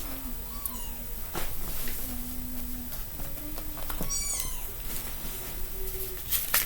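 Several kittens meow in short rising and falling calls scattered through the stretch, with a few louder cries near the end, over a steady background hiss; the dog's reaction is not clearly distinct.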